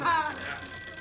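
A telephone rings in an office, a short burst of bright, rapid bell trilling that fades quickly, with a faint voice underneath.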